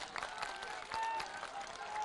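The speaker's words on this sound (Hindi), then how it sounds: "तालियों के साथ उनका स्वागत कीजिए" Audience applause welcoming a guest at a televised Hindi election debate, a brief steady burst of clapping from a crowd under continuous reverberant hall noise.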